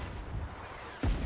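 A mortar team fires in the war game Foxhole: one heavy, near blast bursts out of a steady low battlefield rumble and rings on loudly to the end.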